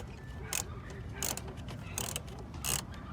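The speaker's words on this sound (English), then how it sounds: "it's time to take off the bolts now" A ratchet wrench loosens bolts on a license plate bracket for a 2019 Dodge Charger Scat Pack, giving repeated rapid clicking bursts up close with short pauses between turns over a low background rumble.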